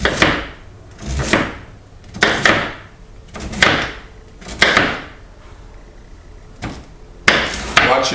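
A knife chops yams on a cutting board in a series of sharp, loud strikes, about eight spaced cuts with brief pauses between them, close and clear with no talking.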